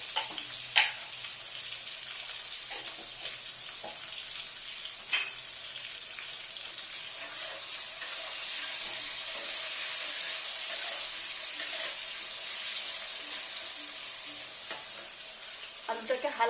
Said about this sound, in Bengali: আলুটাকে হালকা লাল লাল করে আমাকে ভেজে নিতে হবে।